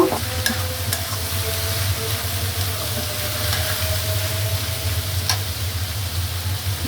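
Onions frying in a pan while salt goes in, for a dried loitta fish bhuna, giving a constant close sizzle and bubbling with a low hum underneath and a few light clicks.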